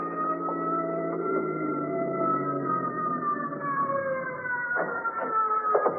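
An ambulance siren approaches an emergency room entrance, its wailing tones rising and falling continuously and loudly for the whole stretch, with no voices.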